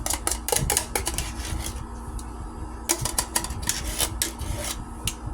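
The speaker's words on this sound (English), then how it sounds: "You want to get all that goodness out of the can here." Short metallic scrapes and taps of a utensil working food out of a can for homemade dog bran muffins, in irregular close bursts with quiet gaps and a steady low hum beneath.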